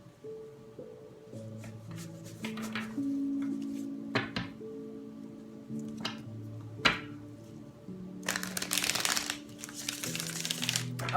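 Several crisp riffling bursts of cards being shuffled, closer toward the end, over a steady background of soft music.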